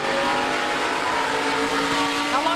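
ARCA Menards Series race cars roar around the Lucas Oil Indianapolis Raceway Park oval, a loud sustained engine drone with rising pitch as they accelerate past.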